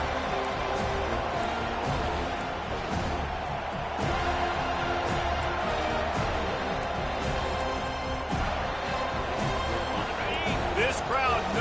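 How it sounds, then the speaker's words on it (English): Football stadium crowd at an FSU vs Memphis college game cheering loudly, a dense, sustained roar with sharp bangs and thuds rising through it, heard close and constant throughout under commentary. "These fans are going absolutely nuts."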